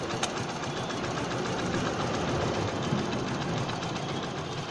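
A Hero 100cc motorcycle engine runs steadily during carburetor tuning, a continuous close mechanical drone and rattle with no speech over it.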